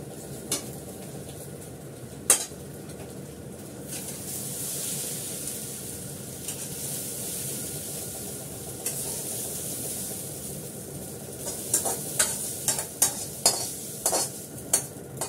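Leafy greens frying in a kadai under a soft, steady sizzle and hiss, with a utensil clinking and scraping against the pan in a burst of quick strokes toward the end.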